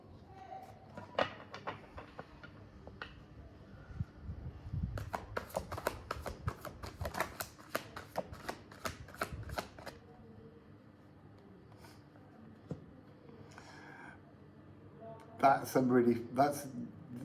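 An astrology card deck being shuffled by hand, giving a run of quick, crisp papery clicks and riffles in the middle of the stretch, with a voice talking over parts of it.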